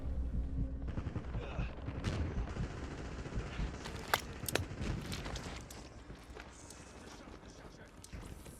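Gunfire in the video game Call of Duty: Warzone, scattered shots and sharp cracks over game noise and voices, with a couple of louder reports midway before things quiet down.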